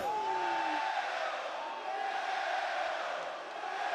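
A wrestling arena crowd reacts with disappointment, a broad, distant roar of voices with a drawn-out booing tone at the start, staying fairly even throughout.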